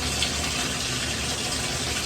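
Steady running water from a tap while dyed hair is rinsed, a constant close hiss and splash with no break and no talk.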